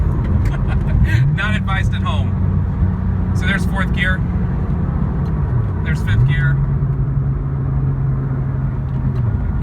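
A 2002 Porsche 911 Turbo drones steadily from inside the cabin while driving, its engine note dipping and then settling lower through gear changes up to sixth, with someone talking intermittently over the constant road rumble.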